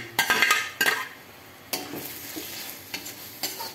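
Shrimp and tomato frying in a pan with a light sizzle underneath, while a utensil stirs them in a few sharp, close scraping strokes separated by short gaps.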